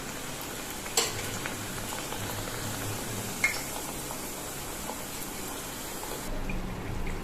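Tamarind vadai deep-fry in hot oil, a soft steady sizzle and bubbling with two sharp clinks of a utensil as pieces are dropped in one at a time.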